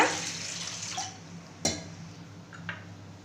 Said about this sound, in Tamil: தேவையான அளவுக்கு தண்ணி ஊற்றிக்குங்க